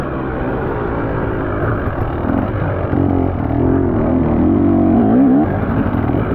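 Dirt bike engines drone steadily and loudly during a hare scramble race in the woods, with a revving, pitch-rising pass building near the end as faster riders go by.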